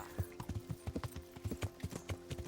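Horse hooves clop at a quick, rhythmic gallop in Kingdom Come Deliverance, a steady patter of close, fairly quiet hoofbeats with no voices.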